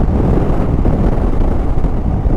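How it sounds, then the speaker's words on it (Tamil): Loud, steady wind roars and buffets right against the microphone while riding a Royal Enfield Himalayan motorcycle, a continuous low rumble with no letup throughout. "வண்டி அப்படி காற்றடிக்குது."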